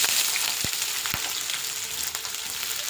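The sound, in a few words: green chilies and onion frying in oil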